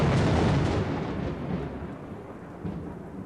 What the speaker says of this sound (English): the thunderclap that came with it shook the house